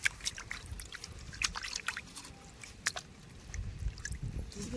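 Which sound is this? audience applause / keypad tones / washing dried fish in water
washing dried fish in water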